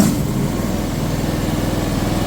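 Small engine of a Landhero mini skid steer running at a steady fast idle, a close, even buzzing chug with no voices.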